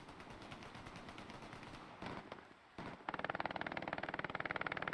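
Enemy machine gun fire in the Hell Let Loose WWII game on the Madeleine Bridge map, loud sustained automatic bursts with a brief pause, then a fast rattling stream of rounds close by.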